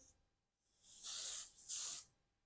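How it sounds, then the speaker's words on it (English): Setting spray from a pump bottle gives two quick, close hissing bursts, each about half a second long, separated by a short pause in an otherwise quiet room. "So I'll go ahead and spray."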